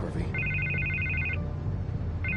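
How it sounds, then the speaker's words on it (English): A telephone bell ringing in repeated electronic trills, a long burst followed by a second starting near the end, fairly loud over a low background hum. "I can't get the phone to stop ringing."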